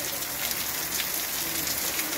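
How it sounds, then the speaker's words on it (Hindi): Heavy rain pours down steadily in a dense, even hiss with no pauses. "बारिश हो रही है बहुत तेज"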